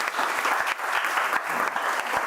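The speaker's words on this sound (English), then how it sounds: "Big applause." Steady applause from a conference audience at an OECD global roundtable, a dense wash of many hands clapping with a few sharper claps standing out, continuous for a little over two seconds.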